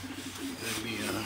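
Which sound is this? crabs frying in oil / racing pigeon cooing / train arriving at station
racing pigeon cooing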